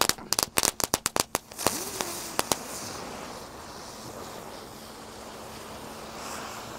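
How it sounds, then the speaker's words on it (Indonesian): A gangsing super 3-colour spinning firework is lit at night, opening with a rapid series of sharp close crackling pops, then settling into a steady whooshing hiss with a faint whistle. "Lanjut kita nyalakan gangsing super 3 warna"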